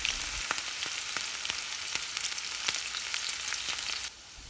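Sliced okra (bhindi, lady's finger) frying in hot oil for a crispy starter, giving a steady dense sizzle with scattered sharp pops and crackles throughout, close and continuous, easing slightly at the very end.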